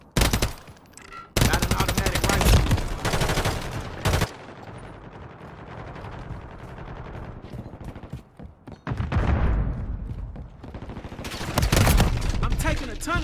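Automatic rifle gunfire in Call of Duty Modern Warfare 3, with long, loud sustained bursts of rapid shots separated by quieter gaps with game sounds and mechanical clatter.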